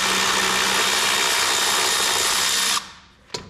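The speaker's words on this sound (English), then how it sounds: "Let me see if I can get the Milwaukee ratchet in here and make this go a little faster" A Milwaukee cordless ratchet runs steadily and loud for nearly three seconds, spinning self-locking nuts off the motor mount bolts of a Cub Cadet RT65 rear-tine tiller, then stops abruptly, followed by one short burst.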